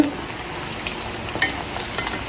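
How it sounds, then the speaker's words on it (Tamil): Chana dal thattai vadai deep-fry in bubbling oil, giving a close, continuous sizzle with scattered popping crackles all the way through. "இந்த பபிள்ஸ் எல்லாம் ஓரளவுக்கு அடங்கி வரைக்கும் இது பொறிஞ்சிட்டு"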